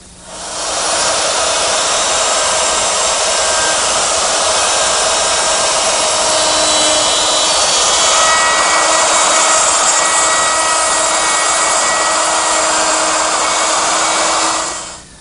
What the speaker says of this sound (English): I'm using my router, which is set up with a dovetailing bit, and this little collar right here follows the jig